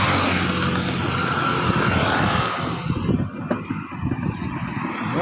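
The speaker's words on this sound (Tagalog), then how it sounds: "Mga dumadaan na sasakyan" Vehicles passing on a wide main road, loud steady engine and tire roar close by that swells, then eases into quieter traffic rumble, with no talking.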